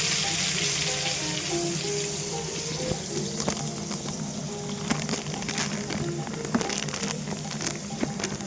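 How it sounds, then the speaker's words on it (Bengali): Onions fry in hot oil with garlic, ginger, green chilli and whole cumin, giving a loud, steady sizzle with scattered crackles and pops close up, free of any speech. "পেঁয়াজটা দিয়ে পেঁয়াজটা ভালো করে ভাজবো।"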